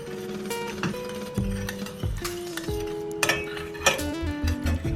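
Brown sugar is stirred in a tagine pot over low heat, producing ringing metallic clinks and scrapes of a utensil against the pot at an irregular pace, with a faint sizzle underneath.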